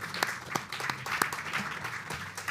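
An audience applauds after film screenings at a seaweed festival, a steady wash of many hands clapping at moderate distance with no talk over it.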